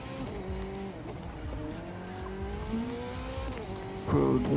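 KTM car racing in The Crew 2, a steady engine drone with shifting pitch and tire squeal, rising into a louder rev and skid at the end.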